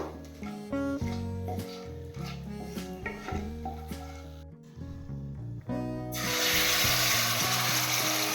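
Prepared masala paste for a cauliflower malai korma sizzles loudly in a pan. The frying bursts in near the end, after a stretch of music, and continues strongly under it.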